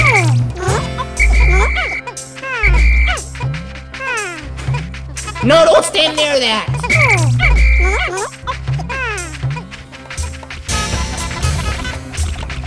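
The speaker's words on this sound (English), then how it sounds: "Ooh, there's a frog!" A frog croaks in the Pikmin video game: several deep, thudding croaks spaced across the stretch amid game music and effects, with excited voices talking over it.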